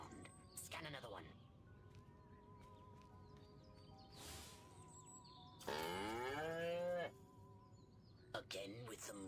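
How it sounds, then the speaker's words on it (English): A cow moos in the video game Destroy All Humans, with long drawn-out lowing calls sounding amid game ambience and other effects. Brief speech-like sounds also occur. "Again with the moo?"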